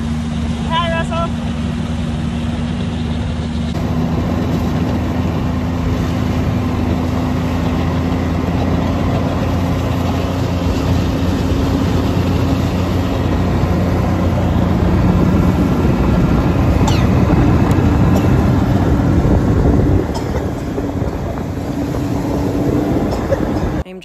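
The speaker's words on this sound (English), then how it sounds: "Enjoying one last skidoo ride for the season." A snowmobile engine drones steadily and loudly through a long ride on a warm, sunny spring day in northern Saskatchewan, with a continuous rumble and a muffled voice underneath.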